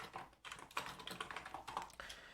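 Computer keys are typed in quick, irregular bursts of close, light clicks and taps, with short pauses between runs of keystrokes.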